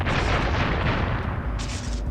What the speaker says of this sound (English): Now watch it explode.